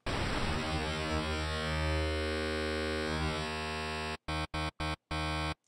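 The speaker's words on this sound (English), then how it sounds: "And as you can listen, it's just filtered noise." Filtered noise from a synthesizer patch in Reason 6.5.3, a loud, sustained buzzing tone with a shifting filtered texture that then cuts into several short gated bursts near the end.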